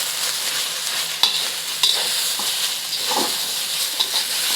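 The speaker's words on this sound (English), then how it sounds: "Stir that up." Oyster sauce and soy sauce are stirred into a sizzling pan for Hong Kong style baked pork chop rice, with steady frying hiss and occasional sharp utensil taps close by.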